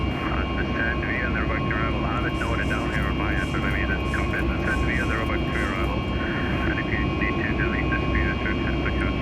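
Airliner jet engines spooling up for the climb in a flight simulator flown on the VATSIM network in Boston, a steady loud broadband roar held throughout with a voice talking over it.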